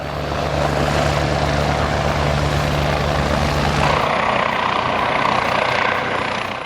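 An AW-109 medical rescue helicopter with two engines totalling 1550 horsepower flies overhead, a steady loud rotor and turbine roar with a low drone that drops away partway through, leaving a continuous broadband whoosh.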